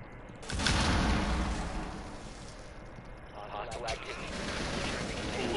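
Rainbow Six video game gunfire, a sustained loud fusillade with booming impacts that fades into steadier background shooting, voices present.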